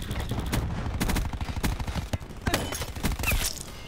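Rapid bursts of explosive blasts and gunfire-like cracks from cluster grenades in Call of Duty: Black Ops 4, loud and dense, repeating in quick succession throughout without pause.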